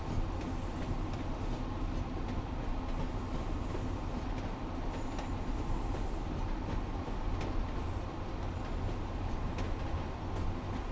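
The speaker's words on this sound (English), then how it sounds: "That clickety-clack, clickety-clack, and the rocking of the train." A Pacer diesel train in Train Sim World 4 rolls over rails with a steady rumble and a repeating clickety-clack of wheels on joints, close and constant throughout.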